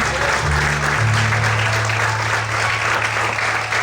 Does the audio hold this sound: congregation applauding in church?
yes